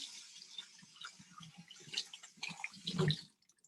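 Running water splashes over a pan in a sink after a tomato is rinsed, a steady broadband gush with scattered clinks and drips that swells to a louder burst near the end, then cuts off.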